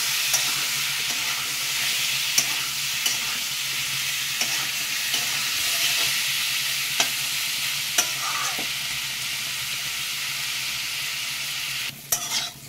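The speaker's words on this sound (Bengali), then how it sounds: "এঁচোড়গুলোকে একটুখানি ভেজে নিচ্ছি কিছুক্ষণ।" Raw jackfruit pieces frying in a pan for a Bengali echor dalna, giving a steady close sizzle with a few sharp clinks of stirring.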